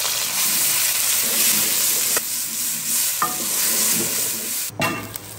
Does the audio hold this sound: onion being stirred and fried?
yes